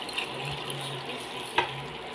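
Water being added to a pot of cooking mung beans, a short gentle pour and splash heard close up, with a small knock partway through.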